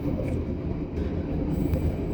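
The long fourteen-car Ambarawa Express passenger train pulls out of Bojonegoro station, a steady low rumble of rolling wagons with faint wheel screech, continuous and fairly close.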